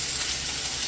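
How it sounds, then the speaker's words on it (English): Chicken sizzling in hot oil in a pan, a steady dense hiss and crackle of frying throughout the short moment, with no voices. "our oil should be hot."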